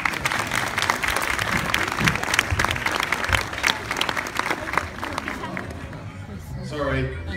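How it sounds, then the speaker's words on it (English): A crowd at a kung fu school gives a round of applause, dense clapping that fades over several seconds, followed by nearby voices and chatter. "A big round of applause."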